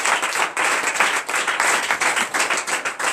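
A congregation claps during a morning prayer service, loud rhythmic group clapping in quick regular bursts that continue throughout the moment, with a faint murmur of voices underneath.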